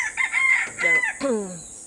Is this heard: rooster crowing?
yes